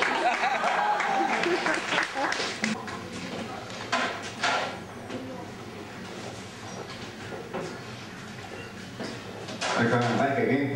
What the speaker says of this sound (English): round of applause while that's right.